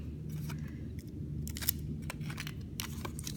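Strips of sticky tape pressed along the seam of a paper cube give a run of dry, crinkly crackles and small clicks over a low steady hum, with no talking.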